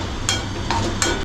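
Ginger-garlic paste sautéing in a cooking pot while being stirred: three short scraping, sizzling bursts rise over a steady low background hum.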